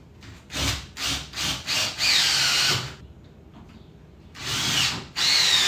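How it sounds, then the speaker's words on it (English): Cordless power drill driving screws up into garage ceiling joists to mount a 2x8 board for a storage lift, several short bursts followed by longer whirring runs with quiet gaps between, close by. "I'm going to screw it into 3 different ceiling joists"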